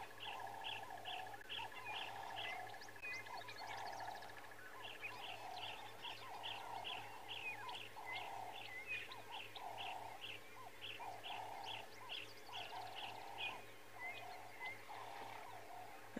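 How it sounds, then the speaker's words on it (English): Dawn chorus on an African safari: doves, grey go-away birds, tawny-flanked prinias, arrow-marked babblers, an orange-breasted bushshrike and a white-bellied sunbird calling together, with repeated rhythmic chirps and steady calls layered over a constant low hum. "This is everything from doves to grey go-away birds to tawny-flanked prineers, arrow-marked babblers, even an orange-breasted bushrack and a white-bellied sunbird calling."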